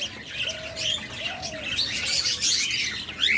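Cockatiels, including a pair of grey cockatiels offered for sale, chirp and whistle in a busy, overlapping chorus of bright, close calls that continue throughout with no talking.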